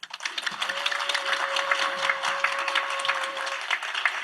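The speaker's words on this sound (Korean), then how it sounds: "이제 열린 대법회를 시작하겠습니다. 박수!" A crowd claps to open a Buddhist Dharma assembly, with continuous moderate applause throughout and a faint steady tone running beneath it.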